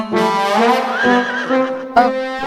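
A horse gives a loud, close whinny with a wavering pitch lasting about two seconds, followed by a short snort or second neigh near the end, with no talk over it.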